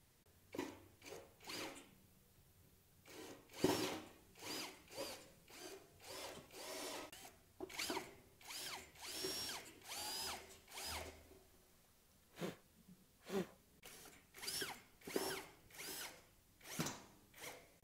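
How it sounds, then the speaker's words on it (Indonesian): A power drill bores screw holes in a school desk during assembly, with repeated short whirring bursts separated by pauses, faint and fairly close, with no speech. "kiranya sudah cukup bisa langsung dibor aja"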